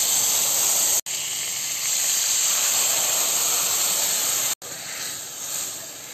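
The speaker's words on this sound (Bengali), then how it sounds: "ফোড়নের জিরাটা ভাজা হয়ে গেলে এর মধ্যে আমি বানানো গ্রেভিটা দিয়ে দিচ্ছি" Homemade gravy poured over fried cumin seeds in a pan for a fish curry, raising a loud, continuous hissing sizzle, cut off abruptly twice before settling slightly quieter.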